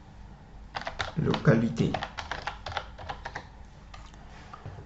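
Typing on a computer keyboard while working in QGIS software: a quick cluster of soft key clicks, fairly close, under a person speaking French.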